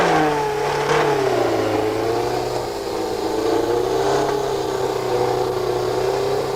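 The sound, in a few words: McLaren F1 car engine starting and revving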